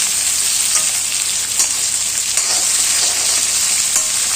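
Pieces of nalleru (adamant creeper) fry in hot oil in a kadai, a bright, dense sizzle crackling steadily and close for the whole stretch, with small pops scattered through it.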